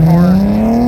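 An Infiniti car passes at a railroad crossing, a loud, close engine tone rising steadily in pitch over under a second, with no talk.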